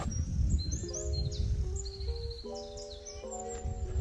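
Small birds chirp and tweet in short, repeated whistled phrases over low background murmur in the Wildpark Klaushof wildlife park in Germany. The calls are moderately near and continue through the whole clip.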